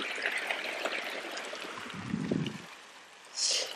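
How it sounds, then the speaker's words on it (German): Water splashes and runs steadily in the Fischbrunnen, a town fountain, a continuous broadband wash with a brief lower gurgle and a bright hiss near the end. "Brunnen Nummer 1, der Fischbrunnen."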